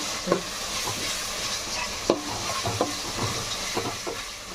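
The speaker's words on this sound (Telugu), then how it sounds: "ఒక స్పూను అల్లం పేస్ట్ వేసుకొని కలపాలి బాగా" Onions and ginger paste frying in a pan for chicken curry, with a spoon stirring and scraping in quick irregular strokes over a constant close sizzle, and a few sharper knocks against the pan.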